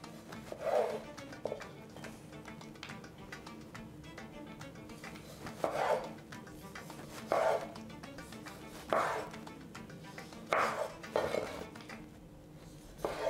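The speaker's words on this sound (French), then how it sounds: "Maintenant, pour ma chorba, je vais les découper en petits morceaux." Ingredients for chorba being chopped into small pieces on a board, a close series of knife taps and scrapes in irregular bursts with clinks of utensils, no voices.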